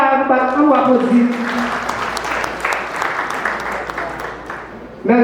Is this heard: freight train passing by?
no